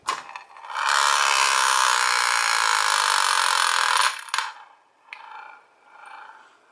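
An aluminum tippe top spins on a mirror surface, giving a loud, steady whirring rasp that holds for about three seconds, cuts off abruptly, and is followed by a few faint scraping rattles.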